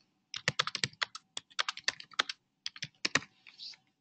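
Typing on a computer keyboard into a note-taking app: a quick run of crisp key clicks in uneven bursts with a short pause midway, close and clear with no talking.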